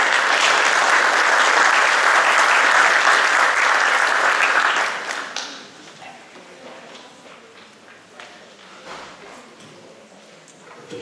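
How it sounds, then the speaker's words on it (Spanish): A crowd at an urban planning forum in Lima claps loudly and steadily for about five seconds, welcoming an architect, then the applause fades quickly into quiet room noise with scattered faint taps. "Recibamos con un fuerte aplauso al arquitecto José García Calderón"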